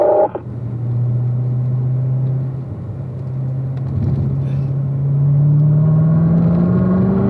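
A car on the Spring Mountain race track getting on the power down a straight, the loud steady engine note easing briefly then climbing in pitch as it accelerates, heard continuously from inside the car.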